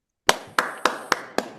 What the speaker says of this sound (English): on the count of three, let's all clap